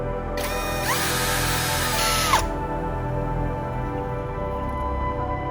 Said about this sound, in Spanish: Con el taladro y un avellanador, repasaremos de esta manera el orificio del tubo.